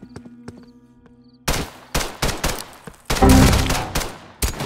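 Gunfire in a Roblox zombie survival video game: a few faint shots at first, then a loud run of sharp cracks and rapid bursts, densest near the end, with no talk over it.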